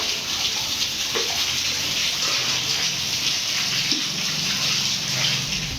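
Full Vaigai river rushing through Madurai after summer rain, a steady, loud wash of flowing water that stays constant throughout with no voices.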